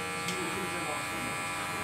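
Electric hair clippers with a zero guard buzz steadily through a barber's haircut, a close continuous hum with faint talk underneath.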